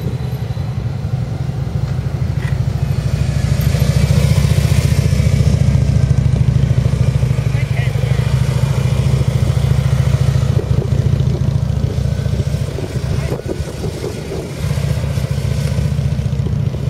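A Honda Goldwing motorcycle weaves through an offset cone course, its engine droning steadily and loudly up close, with throttle rising and easing through the turns and no talk over it.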